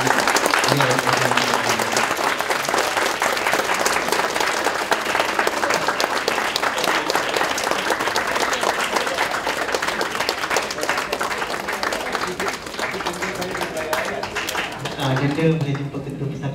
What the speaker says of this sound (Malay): Saya rasa kita boleh bagi tepukan yang panjang untuk